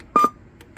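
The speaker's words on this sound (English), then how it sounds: "only thing I don't like, and you can turn off, is that annoying beep" A Top Gun Quad 5 CB radio gives one short, loud electronic button beep in two quick pulses, followed by faint clicks.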